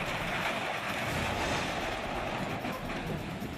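Ocean waves along the coast at Santa Rosa, Ecuador roar in a steady, dense wash of surf with wind, sustained and fairly loud throughout with no voices.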